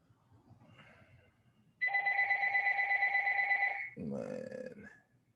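A telephone rings during an online lecture, a loud, steady electronic bell tone lasting about two seconds, followed by a brief lower-pitched ring or tone.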